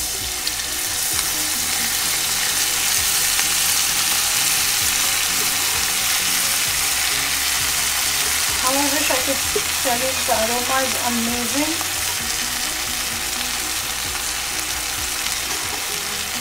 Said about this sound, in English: To this I'm going to add the saag mixture that we had cooked.